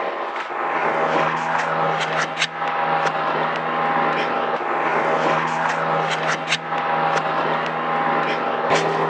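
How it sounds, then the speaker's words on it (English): A steady engine drone with a low hum runs throughout, like a motorboat passing nearby, with faint intermittent voices and clicks over it. "That noise you can hear is a beautiful speedboat going past me."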